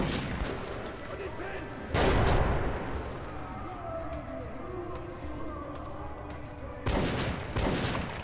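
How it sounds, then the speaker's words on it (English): Two heavy, booming grenade blasts in the video game Metro 2033 Redux, one early and one near the end, each loud and broadband, with a murky rumbling game ambience between them. "That's a grenade."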